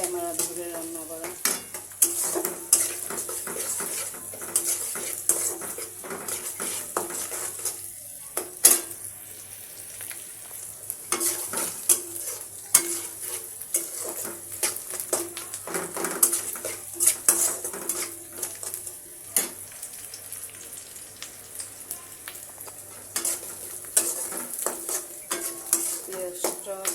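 Onions frying in a pan with a continuous sizzle, punctuated by frequent clanks and scrapes of a utensil stirring against the pan over nearly half a minute.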